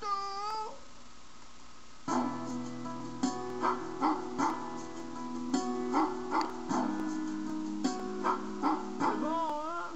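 Small dogs give a string of short, pitched yips and barks in a sing-song rhythm over steady musical accompaniment, moderately close.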